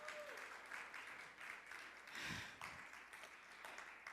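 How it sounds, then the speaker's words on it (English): An audience at a Sunday talk gathering gives sustained applause, a steady patter of clapping hands at moderate distance with a brief swell in the middle. "Yes, please give her another round of applause,"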